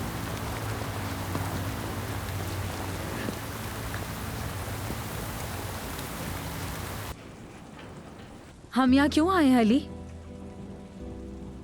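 Heavy rain pours steadily as a loud, dense wash for about seven seconds, then drops to a quieter background hiss as a voice speaks over it.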